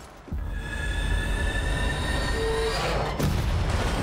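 A zombie-hauled train in the game Zombie Army 4: Dead War rolls past loud and close, its wheels squealing in long metallic tones over a heavy rumble, with a deep thud near the end.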